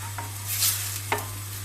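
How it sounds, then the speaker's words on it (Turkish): Onions sizzle steadily as they are sautéed in a hot pan before ground meat is added, with a couple of scraping stirs and a low electrical hum underneath. "Soğanlarımı bir güzel kavurduktan sonra"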